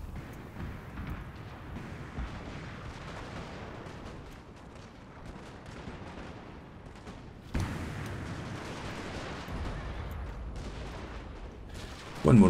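Massed musket volleys from line infantry in the Napoleonic Total War III game, a continuous rumbling crackle of battlefield gunfire that swells louder in the second half and ends on a sharp burst.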